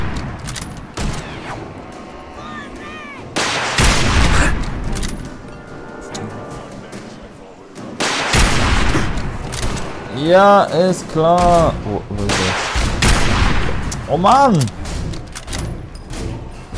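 Repeated bursts of gunfire and explosions in the video game Fallout 4, loud and dense, with a voice talking over the action.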